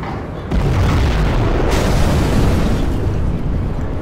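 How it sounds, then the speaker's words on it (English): Nuclear missile launch and detonation in the C&C Zero Hour strategy game: a loud, sustained rumbling boom that swells after a brief quieter start and roars steadily for several seconds. "We have launched our nuclear missile."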